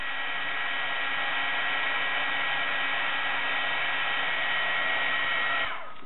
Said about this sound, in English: So heat it, turn it around, make sure it's good and hot so the embossing powder will stick to it.